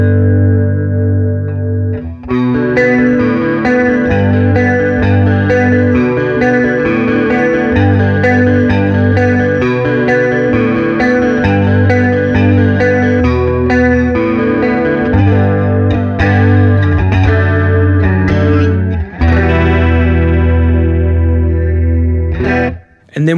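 An electric guitar runs through a Harby Pedals Mizu chorus pedal, sustained loud chords with a swirling, wavering chorus shimmer that grows deeper and more pronounced as the effect depth rises.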